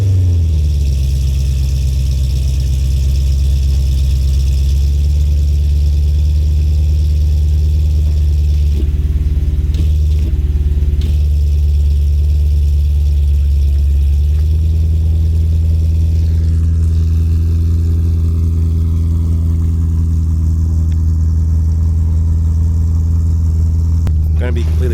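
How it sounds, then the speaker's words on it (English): A BMW M3 engine cold start runs with a deep, steady idle for a long stretch, briefly dipping around the middle before settling into a lower, even rumble. "But let's get a little cold start."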